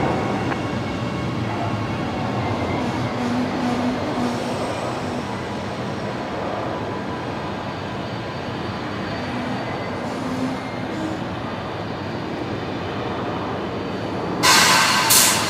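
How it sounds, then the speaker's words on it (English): Train passing near Brisbane Airport at twilight, a loud sustained rumble with wheel and rail noise that holds steady for the whole stretch before a brief rise at the end. "That's noisy, isn't it? The noisy train there."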